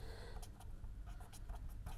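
Pen scratching across a surface while equations are written by hand during a statistics lecture, several soft brief strokes over a low steady background hum, fairly faint.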